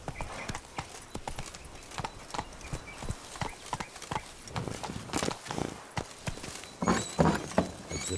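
Geralt's horse Roach trotting in The Witcher 3: Blood and Wine, a steady run of crisp hoof clops at moderate distance, with a snort or whinny near the end and no speech.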